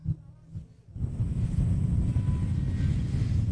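A Honda CB650R E-Clutch four-cylinder engine with its stock silencer gives a deep, steady exhaust drone that rises after a brief quieter start, heard close with some wind buffeting and no talking.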